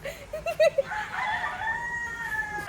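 Chickens cluck in a short burst of rapid notes, then a rooster crows with a long drawn-out call, fairly close and clear against a background of farm-animal enclosures.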